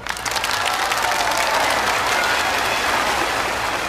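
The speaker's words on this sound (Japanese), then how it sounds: "これは会場の皆さんお二人に盛大な拍手をどうぞ。" Dense, steady applause from a venue audience for two contestants at a judged competition, loud and continuous throughout after a quick swell at the start.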